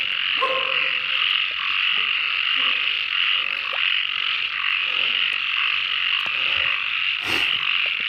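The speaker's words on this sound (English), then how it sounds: "I'm surrounded by frogs" A dense chorus of frogs croaks at night in a steady, loud, continuous trill, with occasional nearer individual croaks breaking through.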